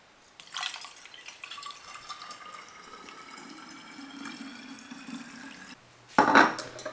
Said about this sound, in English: Then I just pour it in little by little.